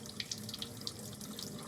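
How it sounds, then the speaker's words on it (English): A tap runs gently into a sink while acrylic paint is rinsed from hands, a steady low wash of water with faint splashy ticks scattered across it. "all I'm doing is letting the water run a little bit"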